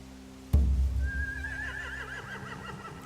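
Horses in The Walking Dead video game, a sharp thump followed by a loud, wavering whinny with a few hoof sounds underneath.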